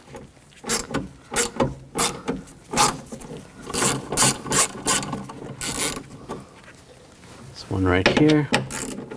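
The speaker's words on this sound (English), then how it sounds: "Using a 10mm socket, take these nuts off." A 10mm socket ratchet clicks in quick bursts while backing nuts off a rear window regulator on a 2000-2006 BMW X5, close and crisp, with a short spoken remark near the end.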